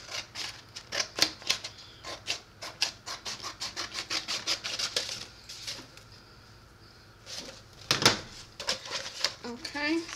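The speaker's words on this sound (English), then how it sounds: "Okay, so I'll cut to about this line right here." Scissors snip through transfer paper in a quick run of crisp, close cuts, pausing for a few seconds before a few more snips follow.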